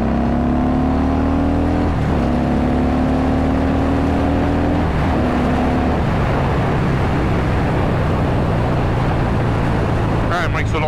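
A 2021 Harley-Davidson Sportster S engine revs up under hard acceleration, rising in pitch through gear changes with brief dips between them, loud and close, with strong wind rush and no talking.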